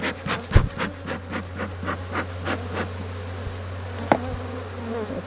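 Angry honeybees swarm around a split hive, a dense buzzing drone that pulses with close fly-bys, steady hum underneath and a few sharp knocks against the wood.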